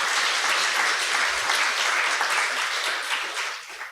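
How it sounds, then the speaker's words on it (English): An audience in an education event room applauds, dense steady clapping that holds strong for several seconds before tapering off at the end. "Can we just give a round of applause for Melissa in this room?"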